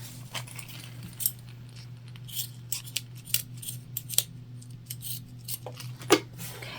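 Sharp scissor snips trimming zipper tape from a fabric pouch seam, a quick series of crisp metallic clicks spread unevenly over several seconds, close and fairly quiet over a low steady hum.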